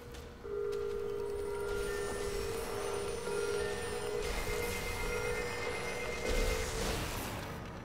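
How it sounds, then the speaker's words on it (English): An old-fashioned telephone bell rings continuously in the Lego Marvel Super Heroes 2 video game, a steady bright metallic trill that holds for several seconds over background game sound. "That's an old timey telephone phone."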